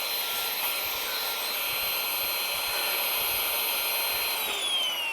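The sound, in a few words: electric pump deflating Tesla air mattress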